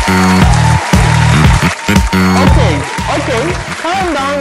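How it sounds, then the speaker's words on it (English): An audience at a college magazine TV show claps loudly and continuously beneath strong tonal music and pitch-sliding vocal sounds that dominate the mix. "Okay, calm down with the clapping."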